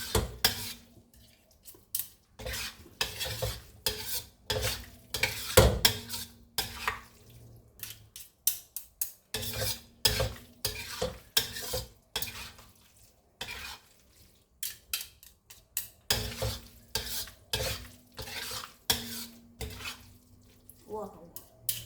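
Spoon scraping and clinking against a pan while a dish is stirred, repeated irregular metallic strokes up close with short pauses and a faint hum underneath.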